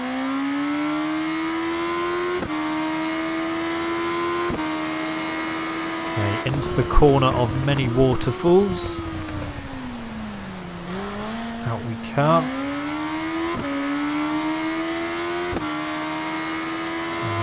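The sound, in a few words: Kawasaki ZZR1400 motorcycle engine racing in RIDE 3 video game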